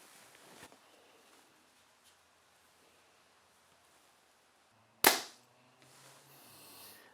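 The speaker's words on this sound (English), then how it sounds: "This bow shoots really good." A Mathews Lift RS compound bow releases a single sharp, loud shot followed by a brief thud, with soft outdoor rustle before and a faint ambient hiss after.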